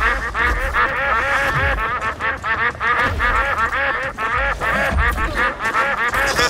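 Dense chorus of ducks quacking and honking together, loud and close, with rapid overlapping calls that never pause.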